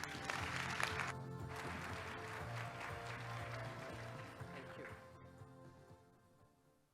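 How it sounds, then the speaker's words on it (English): Audience applause welcomes a speaker at a business forum, loud broad clapping at first that gradually thins and fades out over several seconds, with faint voice or tonal sound underneath. "A big round of applause, please."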